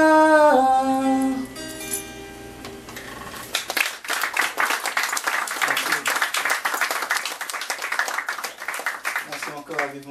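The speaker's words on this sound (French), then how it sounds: "on l'applaudit encore, mesdames et messieurs" Audience applauding a poetry performer at an evening reading, a crowd of hands clapping steadily after a short musical tail, moderately loud, with a voice speaking over it near the end.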